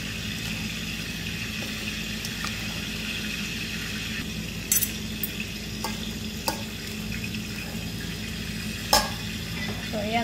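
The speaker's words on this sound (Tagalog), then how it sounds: "Haluin lang po natin yun." Quinoa salad with cheese is mixed in a bowl, giving soft, quiet stirring and scraping sounds over a steady background, with a few sharper clinks along the way.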